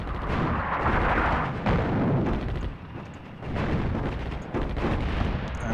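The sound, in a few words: artillery fire in video game Attack at Dawn: North Africa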